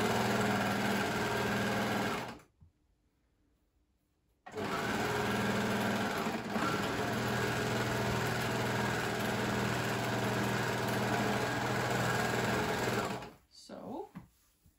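An electric sewing machine stitches the side seam of a bandana dress in a fast, continuous whir, pausing once for about two seconds before resuming and stopping near the end.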